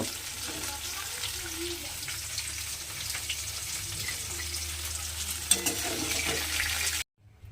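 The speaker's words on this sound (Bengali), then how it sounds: "লাল করে ভেজে নিতে হবে আলুগুলো আমার লাল করে ভাজা হয়ে গেছে" Potatoes frying in hot oil in a home kitchen, a steady close sizzle holding throughout, one brief sharper crackle near the end before it cuts off abruptly.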